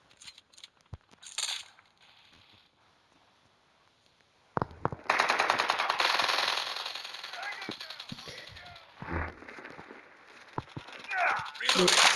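A weapon fires in the Call of Duty video game in sharp shots and rapid automatic bursts, loud and close, with someone talking between the volleys.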